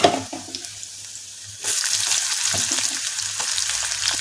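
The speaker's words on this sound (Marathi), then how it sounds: "बारीक चिरलेला कांदा टाकूया" Finely chopped onion with curry leaves and green chilli hits hot oil in a pan, jumping from a quiet lull into a loud, steady close sizzle that keeps hissing with small crackles.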